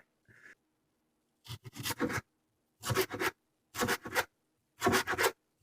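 Knife chopping a yellow pepper on a board, heard as four close bursts of rapid scraping, crunching cuts separated by brief pauses.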